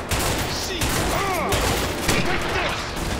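Rapid bursts of gunfire fill a tense shootout in the video game A Way Out, loud and continuous with booming reports, while voices shout over the shooting.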